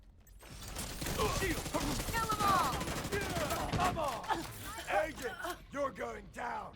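Rapid bursts of video game gunfire crackle in a dense, loud volley for several seconds, then thin out, while people talk over the shooting.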